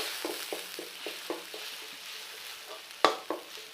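Curry paste and water stir-fried in a pan for a southern Thai pork belly dish, heard as soft scraping strokes in a steady rhythm over a gentle sizzle, with one sharper clatter near the end.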